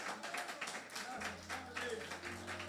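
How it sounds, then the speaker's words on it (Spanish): A church congregation applauds during a service, a dense steady wash of clapping with a low hum and faint voices mixed in. "Le damos un aplauso a Cristo"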